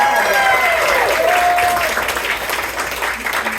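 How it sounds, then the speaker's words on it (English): Loud, dense audience applause for Dr. Lee at a stage event, steady throughout with crowd noise and a brief voice or tone sliding through early on. "Big round of applause for Dr. Lee."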